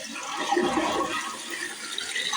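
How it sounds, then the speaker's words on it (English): A toilet flushes with a steady rushing, gurgling wash of water that continues evenly throughout, loud and close, with no talk. "we're going to flush it again."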